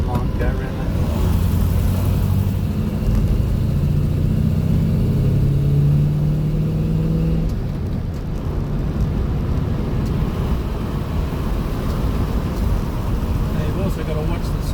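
An MG Magnette ZB V8 Coupe engine hums and drones loudly from inside the car as it rounds a corner, the pitch shifting with speed, with someone talking over it.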